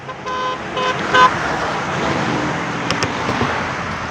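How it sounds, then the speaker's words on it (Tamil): A car passes on a roadside walk from Thottiyam toward Isha, with a steady wash of near road noise, a short horn toot early on and faint traffic sounds throughout. "ஒரே ஒரு கார் ஒன்று"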